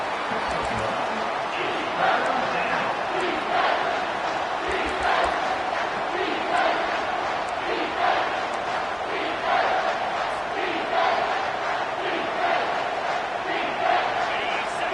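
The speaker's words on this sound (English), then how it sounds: "Decibels rising as the crowd gets behind this defense on third down" A stadium crowd at an Oregon vs Michigan football game roars steadily for a third-down defensive stand, the sustained cheering swelling throughout with an announcer talking over it.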